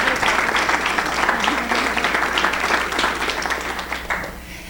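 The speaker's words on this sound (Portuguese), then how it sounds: "eu gostaria de agradecer e gostaria de pedir uma salva de palmas para a professora Luciana" Applause from the audience after a lecture on structural and autonomic adaptations in elite athletes: a full round of clapping that gradually thins and fades near the end.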